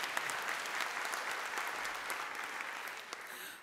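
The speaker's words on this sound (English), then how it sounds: "Let's give another round of applause for that great video." An audience at a college convocation claps steadily, a dense, even round of applause that fades slightly at the end.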